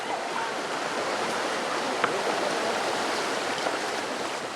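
Fast wild-water rapids on the Erft river give a steady, loud broadband rush of churning water, continuous and close with no voices.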